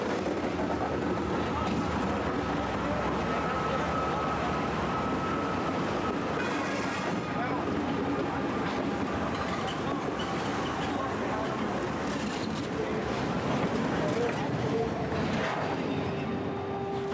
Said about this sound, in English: The night train goes less quickly